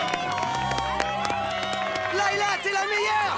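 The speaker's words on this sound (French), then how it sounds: "Je vous demande un tonnerre d'applaudissements pour les Wings." An audience at a school concert in an animated show cheers and claps, with whoops and bright shouted voices layered over close, continuous applause.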